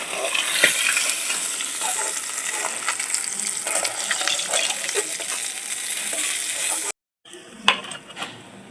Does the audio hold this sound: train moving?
no